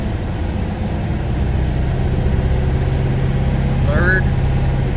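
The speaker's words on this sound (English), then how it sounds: "So third gear is working on jack stands." A Ford Falcon V8 runs in gear while raised on jack stands, giving a steady, close low rumble with a constant drone and no revving, while a voice speaks briefly over it.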